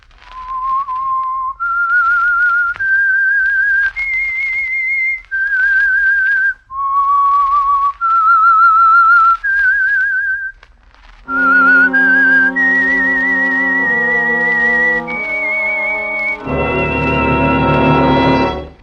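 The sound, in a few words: whistled tune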